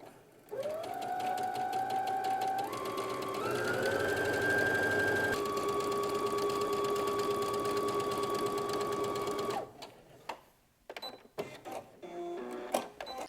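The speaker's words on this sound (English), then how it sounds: "sewing from the right side onto the facing, I'm aligning this plastic edge of my presser foot along that seam. And we're just going to sew from one end to the other" Sewing machine running a continuous straight seam along a garment facing, a steady mechanical whir with a brief pitch shift early on, then stopping and giving way to a few small handling clicks and rustles.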